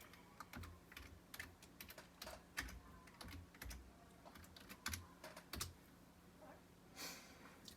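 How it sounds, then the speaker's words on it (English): Password being typed on a computer keyboard, a quick irregular run of close, crisp key clicks with brief pauses, one louder clack near the end, otherwise quiet. "let me type that in."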